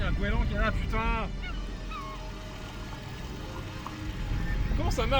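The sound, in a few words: seagull calling in a video game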